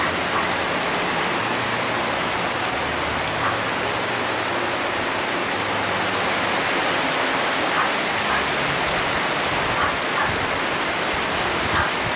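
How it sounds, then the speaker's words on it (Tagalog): Heavy rain falls with wind at a grandmother's house, a dense, continuous hiss of steady rainfall that stays loud and unbroken throughout, with no voices. "Ngayon, meron ng hangin kasama yung ulan."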